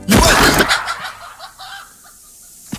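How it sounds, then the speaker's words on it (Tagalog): A close, loud burst of chickens clucking and squawking as they are put together, quickly fading into quieter scattered clucks. "Katatapos ko lang pagsamahin ng mga manok!"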